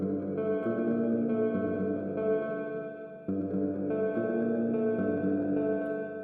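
A sustained, layered bell tone from a software synthesizer in Ableton Live 12 rings steadily with a bright metallic shimmer, retriggered midway, with no talking.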